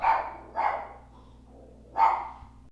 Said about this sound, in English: Excuse my dog, Twilight.